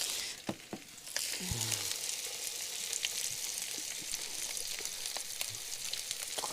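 Food cooks on a plancha with a steady, bright frying sizzle, preceded by a few sharp clicks and taps before the hiss settles into a continuous, close sound.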